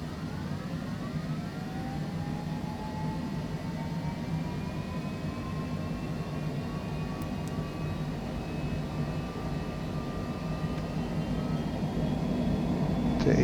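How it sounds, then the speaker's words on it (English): Jet engines of a Cessna Citation C700 at takeoff thrust in a flight simulator, a steady loud roar with tones that climb in pitch as the engines spool up and the noise swells toward the end. "takeoff thrust is set"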